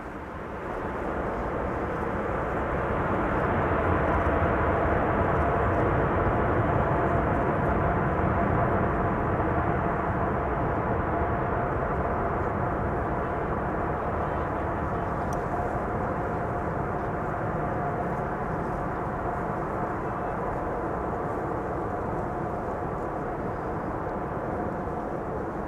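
A landing aircraft roars under reverse thrust at Schiphol, a loud, broad, continuous rush that swells early and then holds steady for the whole stretch, with nobody talking.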